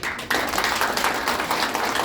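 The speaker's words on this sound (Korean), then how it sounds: "목사님 위해서 박수 한번 쳐주세요." Clapping from the audience at a Seoul gathering of a presidential-candidate forum, in honour of a pastor, starts suddenly after a brief quiet moment and continues as a close, dense burst of hand claps.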